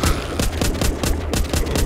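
Rapid automatic gunfire aimed at zombies in The Walking Dead video game, a steady rattling stream of loud bursts at a fast even rhythm with no talk.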